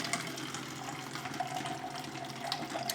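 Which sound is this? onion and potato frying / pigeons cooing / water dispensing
water dispensing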